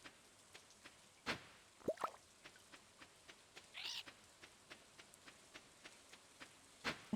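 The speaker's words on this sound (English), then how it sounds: "Oh, it's raining." Light rain falls in a video game, heard as scattered soft drips and patters at a quiet level, with a few brief chirps and taps over a faint hiss.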